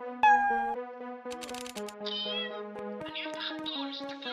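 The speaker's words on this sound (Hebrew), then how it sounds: "אני אוהב החתול, הנה, החתול" Cartoonish cat meows from a Roblox video game, a few short tonal calls over light game music and sound effects, fairly close and clear, with no talking.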